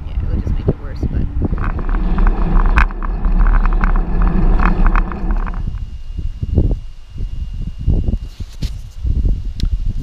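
Wind blowing while cycling on the road, a loud continuous roar and buffeting across the microphone, with a voice talking over it.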